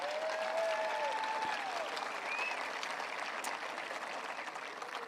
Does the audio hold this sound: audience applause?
yes